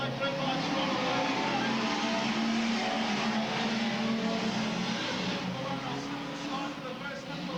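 Saloon race cars of an Australian national championship field getting underway at night, a dense, loud roar of many engines revving together, steady throughout with a commentator talking over it.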